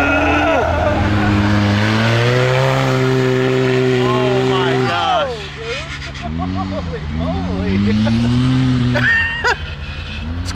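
Engine and clutches of a 300hp Wildcat 4X UTV fitted with large paddle tires, revving loudly and steadily with shifting pitch, dipping midway before climbing again, with people talking over it.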